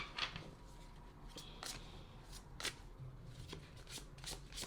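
A deck of tarot cards is shuffled by hand, soft papery riffles and slides coming in short bursts every second or so, quiet and close with no talking.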